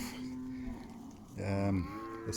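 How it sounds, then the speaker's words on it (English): A Thule heifer calf and a cow low on a farm just after weaning, a brief deep moo swelling in the middle of the moment amid faint outdoor background noise. "Look at this Thule heifer calf, nice and big."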